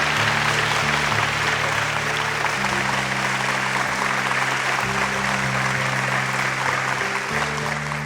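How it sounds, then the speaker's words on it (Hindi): An audience at the Green Cinema Awards 2025, a Bhojpuri awards show, breaks into steady, loud applause that continues for several seconds over a droning background of music. "एक बार जोरदार ताली हो जाए हमारे रीना मैम"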